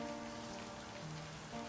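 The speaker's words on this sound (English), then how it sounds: "Just like this very moment, standing here in the rain." Steady rain pours down in an eerie horror-game setting, a dense, even hiss of drops on surfaces lasting throughout with faint low tones droning beneath, no voices.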